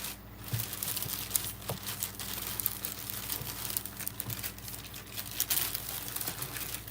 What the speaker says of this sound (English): The bag! Plastic bag.